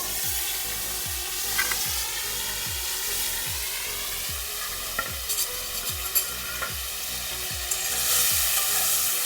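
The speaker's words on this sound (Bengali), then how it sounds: "তেলটা গরম হয়ে গেছে, এখন এই যে দিয়ে দিচ্ছি বেগুনগুলো। আর একটু ভেজে দেবো।" Small brinjals fry in hot oil for a spicy masala dish, a continuous crackling sizzle with a regular run of low thumps and occasional scrapes from stirring, steady and close.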